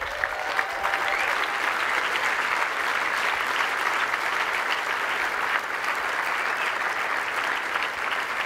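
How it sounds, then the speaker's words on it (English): A conference audience at MozCon 2012 claps loudly and continuously, a dense, even wash of applause that holds without a break from start to finish. "No, no. Stop clapping."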